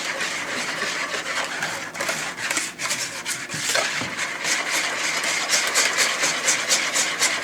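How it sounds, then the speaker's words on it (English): White BBQ sauce with apple cider vinegar being whisked in a bowl, a steady scratchy rubbing and scraping that runs the whole time at a close, fairly even level, with no talking. "you want to whisk all those knots out of it, all the lumps and stuff."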